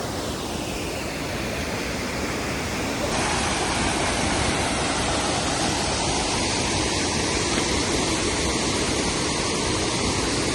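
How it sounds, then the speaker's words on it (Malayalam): Kappimala waterfall in Kerala roars as a dense, continuous rush of falling water, loud and close, growing fuller partway through with no voices. "വെള്ളച്ചാട്ടം"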